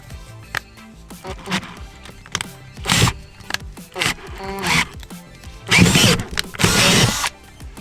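A power drill bores a hole through material in a few separate bursts, with loud whirring spells near three seconds and from about six to seven seconds, broken by clatter, handling noise and quiet gaps.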